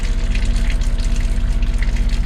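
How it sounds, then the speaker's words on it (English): Pump steadily gushing water out of a leaking tank, a loud, continuous rushing flow with a faint rhythmic pulse, close by. "I started emptying the water out of the tank"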